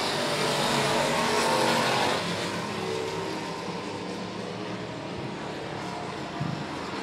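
Race cars roar around Monett Motor Speedway during heat races, a dense engine drone that swells loud at first and then settles into a steady distant rumble.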